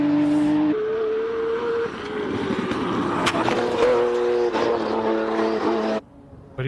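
Race car driving fast up the Simola hillclimb course, engine roaring loud and close with rising and falling revs through gear changes, a brief dip near the end.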